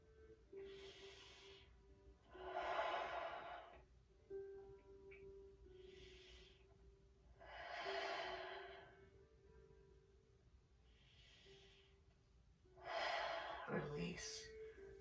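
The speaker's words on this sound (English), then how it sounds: "Keep breathing" Slow, deep breaths taken during a forward-bending stretching exercise, several long airy inhales and exhales spaced a few seconds apart, close and fairly quiet with a faint background hum.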